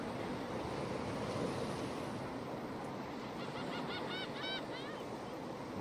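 Ocean waves wash steadily in the Diablo 4 video game world while several seagulls call out in short, faint cries toward the end.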